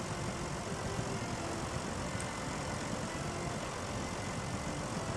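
Steady low engine drone of a tractor in a driving video game, hauling a stuck Thar out of a rally track, constant and unbroken without speech.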